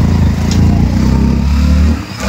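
A motorcycle ridden through a fair market setting, its engine running close and loud with a steady, throbbing low-pitched drone that dips briefly near the end, without talk.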